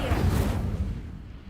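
A Hogwarts video game's Incendio fire spell lets out a short, loud whooshing flare of flame with a low rumbling body that thins out after about a second, alone.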